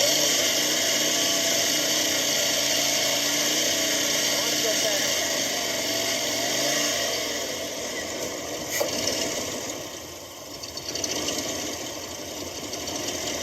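An old truck engine idles smoothly and quietly, a constant, even mechanical hum that holds steady nearby with only a slight dip in level toward the end.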